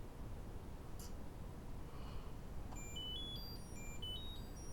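A small Bluetooth key finder plays a thin, high electronic tune of quick stepped beeps. It sounds faint and close over a steady background hiss, after a soft tap or click.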